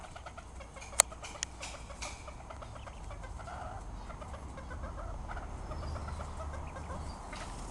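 Serama chickens cluck softly in a shed where hens go to lay eggs, a low steady murmur of fowl calls with one sharp louder call near the start, all close and without talk.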